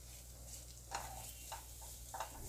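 Methi matar malai gravy fries quietly in a pan with a soft, steady sizzle, while a spoon scrapes and stirs it three times in short strokes.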